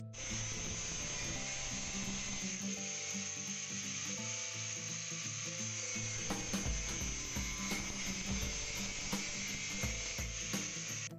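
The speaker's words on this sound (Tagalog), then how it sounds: "Gagamit po tayo ng grinder para matapos po natin ito mga ka-design." Angle grinder cutting sheet metal while making a homemade dustpan, a steady high-pitched whine with gritty rasping and scraping running continuously throughout, loud and close with no talking.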